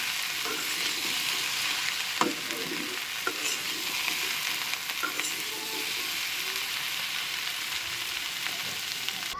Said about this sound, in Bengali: একটু ভালো করে নেড়ে নিচ্ছি।